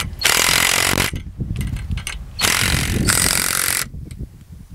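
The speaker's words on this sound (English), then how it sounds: "I'm gonna hit these again with the impact." An impact driver hammers hardware tight during a tree repair, in two long, loud rattling bursts separated by a short pause, close up with no talk.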